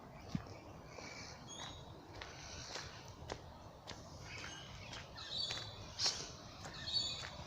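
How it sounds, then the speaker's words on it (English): Birds call in suburban bushland on a walking track near Artarmon and Willoughby, with scattered faint chirps and tweets over quiet background noise and a few soft footsteps. "There's plenty of birds though, you can hear them."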